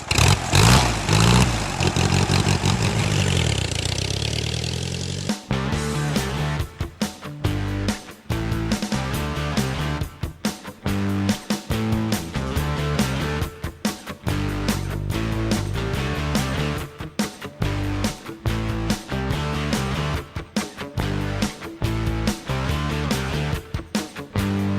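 A vintage Ace motorcycle engine roars up, then runs with a loud, clattering, pulsing beat through changing revs over a sustained ride, close and unaccompanied by speech.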